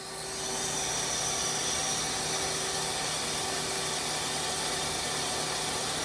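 A 2011 Mazak Quick Turn Nexus 100-II CNC lathe with its spindle running at 1,000 RPM gives off a steady, smooth, quiet whir with faint tonal hum, continuous and unbroken, with no talking.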